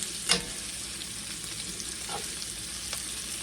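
Potatoes, smoked sausage and onion fry in a pan with a constant close sizzle, broken by one sharp clatter of a utensil early on and a couple of softer scrapes.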